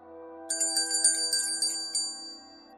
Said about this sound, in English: the ringing of a small bell